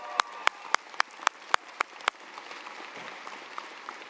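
Several sharp, evenly spaced claps ring out in a quick rhythm, then give way to softer, scattered clapping and low background noise, as a university commencement audience applauds the faculty.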